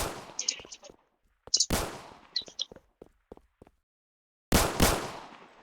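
Guardsmen fire rifles during shooting practice on a range, the shots coming as sharp, loud cracks in short bursts with gaps of silence between them and a final pair of heavy reports.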